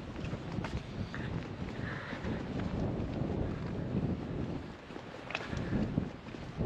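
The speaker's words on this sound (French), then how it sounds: "Un grand vent de face." A strong headwind buffets the microphone during a cold descent, a continuous rough roar that stays loud and gusty throughout, with no voices.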